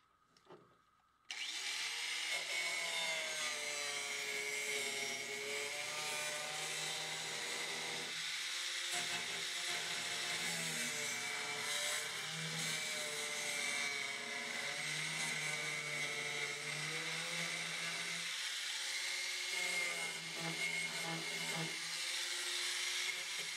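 A power tool whines steadily while cutting fiberglass during a shark slicer build, starting abruptly after a short quiet moment and running close and loud for about twenty seconds, its pitch wavering as the load changes, with brief dips.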